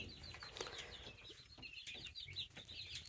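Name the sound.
new barnyard mix chicks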